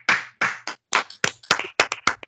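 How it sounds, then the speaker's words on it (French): A congregation at a prayer meeting claps hands in a steady, even rhythm, about nine sharp claps close by in quick succession with no voices over them. "Applaudissons la présence du Seigneur."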